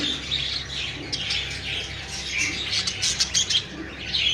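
Budgerigars at a bird farm chatter in a dense, constant flock of high chirps and squawks, with occasional wing flutters, fairly close and without talk.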